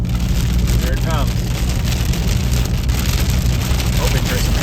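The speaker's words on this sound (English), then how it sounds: "You can see where the rain starts." Heavy rain from an Arizona supercell drums on a moving car, a loud dense hiss over the low rumble of the vehicle driving through the storm's core.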